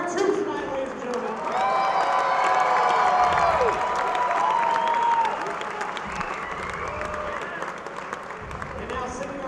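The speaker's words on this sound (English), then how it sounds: "let's hear a big round of applause for our troops tonight, ladies and gentlemen." A crowd at an evening event applauds and cheers for troops, with steady dense clapping, whistles and shouts filling the space, swelling in the middle and then easing slightly.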